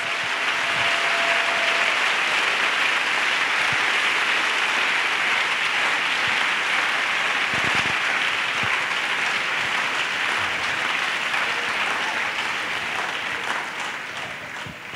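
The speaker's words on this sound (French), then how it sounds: "Clap for the Lord Jesus Christ." A church congregation claps steadily and loudly for the whole stretch, a dense continuous wash of applause that tapers slightly at the end.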